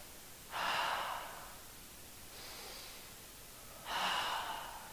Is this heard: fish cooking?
no